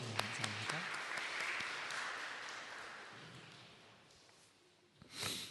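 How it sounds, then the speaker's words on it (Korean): Church congregation clapping at a Korean Sunday worship service in Freiburg, a broad wash of applause that starts strong, slowly fades over several seconds, then swells briefly near the end. "하나님께 영광의 박수 올려드리겠습니다."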